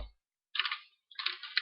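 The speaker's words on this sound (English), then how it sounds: "Oh, my typing is dreadful." Quiet, close typing on a computer keyboard comes in two short bursts of rapid key clicks separated by a silent pause.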